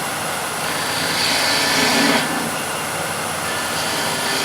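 Bowl gouge tapering spinning wood on a lathe, a loud, continuous hissing cut over the machine's steady hum, swelling briefly midway as the tool bites deeper.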